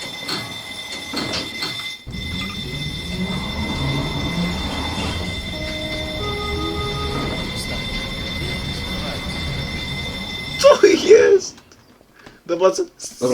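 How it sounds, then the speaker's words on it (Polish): A tram being switched by hand, its wheels letting out loud, sustained metallic squeals with grinding rail noise and a hum beneath, while people talk and shout nearby. "nastawia tramwaj ręcznie"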